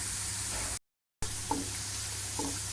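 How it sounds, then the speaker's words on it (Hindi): Onions browning in a large quantity of oil, a steady faint sizzle with a short gap and a couple of soft stirring knocks. "ये देखिए 1 पाव तेल में ये मैंने 1 पाव प्याज ब्राउन करने रखी हुई है।"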